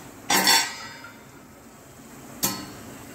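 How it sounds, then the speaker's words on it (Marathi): Metal lid lifted off a pot of rasgulla cooking in boiling syrup, a clattering clink followed by a quiet gap and a second short clank as the lid is set down. "मी आता झाकण काढून एकदा चेक करते."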